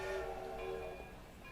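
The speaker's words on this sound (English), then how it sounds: "Train whistle and clanging of bells." Train whistle with clanging bells from an anime episode, a steady sustained whistle tone ringing over a continuous rumble for the whole short stretch, fading slightly toward the end.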